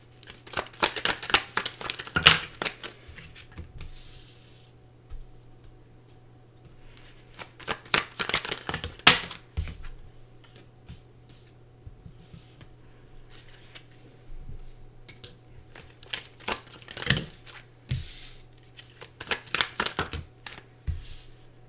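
Tarot cards shuffled by hand during a reading, heard as several separate bursts of crisp riffling and flicking with quiet pauses in between, close and fairly soft over a low steady hum.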